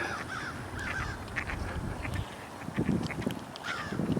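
A flock of ducks on a pond after heavy rain gives repeated nasal quacks and honking calls at moderate distance over steady outdoor ambience.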